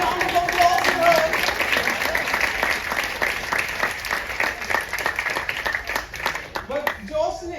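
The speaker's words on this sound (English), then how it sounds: "Big round of applause for her." Audience applause fills a cruise ship show on the Carnival Vista, a sustained wash of many hands clapping that tapers near the end, with a voice speaking over it.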